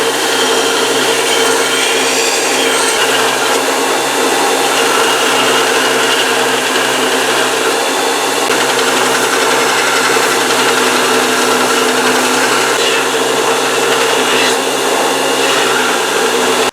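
A belt grinder or similar power tool roars continuously and loudly up close while bevels are ground on a knife blade, a steady harsh whine with no pauses.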